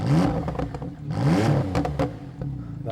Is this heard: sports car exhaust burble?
yes